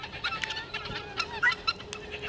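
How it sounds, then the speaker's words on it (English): Chickens cluck and squawk close by in a yard, several birds making short overlapping calls with no talk. "All right, birds."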